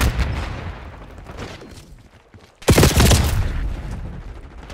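Flashbang blast and gunfire in the Call of Duty Black Ops 6 Liberty Falls Zombies map: a rumbling stretch of shots fades into a brief lull, then a sudden loud bang bursts in and rolls on in heavy, sustained noise.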